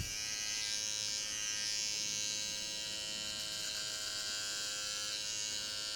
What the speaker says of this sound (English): I want to turn my clipper upside down.